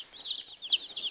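Baby chicks raised as meat birds, newly arrived by mail, give high, close chirping peeps in quick repeated bursts over about a second, with no talking.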